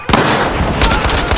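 An incendiary grenade in the video game Battlefield Hardline bursts with a loud, close whoosh and crackle that carries on, with a few sharper pops layered over a shouted voice.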